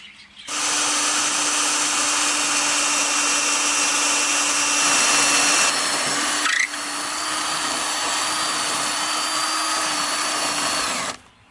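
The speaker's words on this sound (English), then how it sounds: "drill some holes in the edge to mount it inside the pump house" A power drill bores mounting holes in the edge of an electrical board for a pump house, running as one loud steady whine for about eleven seconds with a brief dip in pitch partway through, close up and without talk.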